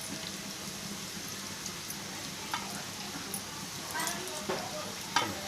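Potatoes fry in a pan and are stirred, giving a steady soft sizzle with scattered scrapes and taps that grow a little louder toward the end; no one speaks.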